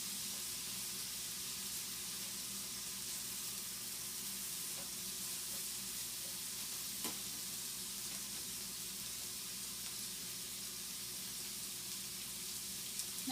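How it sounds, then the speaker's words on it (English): Bacon for okonomiyaki fries in a pan with a steady, even sizzle and hiss that carries on for over a dozen seconds without a break. "I'm going to let the bacon cook for another couple minutes."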